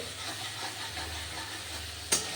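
Radish and potato pieces being stirred with spices in a hot pan for a light curry, a steady soft sizzle and hiss with faint scraping throughout, ending in one sharp louder clatter near the close.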